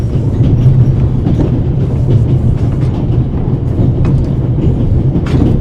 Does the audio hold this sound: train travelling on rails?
yes